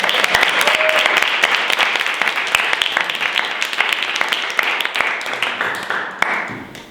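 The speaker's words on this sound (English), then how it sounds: "Give him a round of applause." A live audience at a talk gives a round of applause, loud, close and continuous clapping that stays steady and thins slightly toward the end, with no speech over it.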